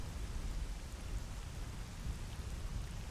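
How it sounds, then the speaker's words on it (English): Rain falls steadily in the Stalker GAMMA video game, a dense, even hiss with low rumbling underneath, continuous and moderately loud without pauses. "I'm going to be driven mad by the rain, because it's obviously appearing on my visor"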